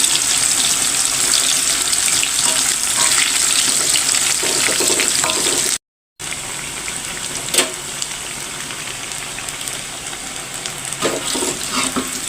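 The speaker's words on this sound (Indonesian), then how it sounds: "goreng tempe" Tempeh sizzles in hot oil in a home kitchen, a steady, bright crackle that stays loud and close throughout. The frying breaks off once and then resumes, with occasional faint clinks. No voices are heard.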